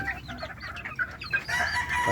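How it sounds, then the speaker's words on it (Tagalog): Several chickens cluck and chatter close by, a busy overlapping flock sound that gets louder toward the end. "Tingnan niyo yung mga manok ko"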